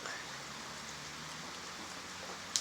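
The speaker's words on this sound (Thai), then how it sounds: "ฝนตก" Steady rain falling on an evening, a soft continuous broadband hiss with no distinct drops, moderately quiet throughout, with one brief sharper tick near the end.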